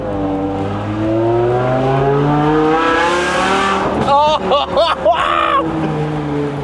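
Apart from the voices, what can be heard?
BMW M5 E60 V10 engine revving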